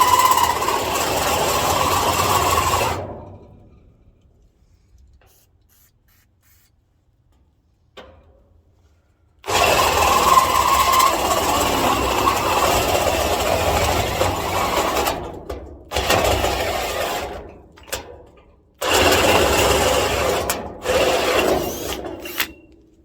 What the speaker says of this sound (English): I'm kind of impressed with them hole saws